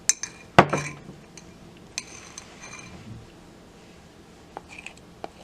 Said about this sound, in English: So you just want to stir it a little bit